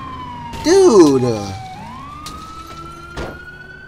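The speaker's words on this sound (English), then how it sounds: "Here's the ambulance." Ambulance siren in the video game GTA 4, loud and close, sweeping down in pitch and then holding a steady wail, with someone speaking briefly over it.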